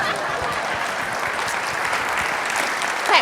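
An audience applauds throughout, a dense steady clatter of many hands clapping together.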